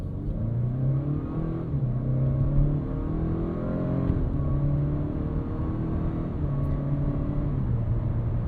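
A 2025 Acura RDX A-Spec Advance SUV with a turbocharged K20 engine accelerates smoothly, its engine note rising and settling through gear changes under a steady cabin hum, moderate and unstrained.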